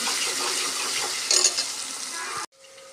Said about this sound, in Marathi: मग आता हे मटणला चोळून घेऊया सगळं एकसारखं मिक्स करून